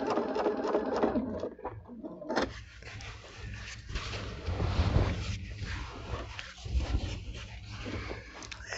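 A sewing machine quilts around a curve, a steady close mechanical hum with rapid needle chatter that pauses briefly and restarts, with no talking.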